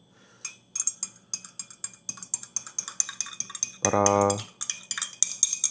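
A spoon stirs a matcha drink in a glass, giving quick repeated clinks and scraping taps in a steady rhythm, close and clear, with a short burst of other noise partway through and brief speech.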